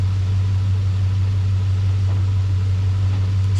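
A third-generation Chevrolet Camaro, restarted after ten years of sitting, idles loud and close with a steady deep engine drone and constant rumble, no pauses and no voices.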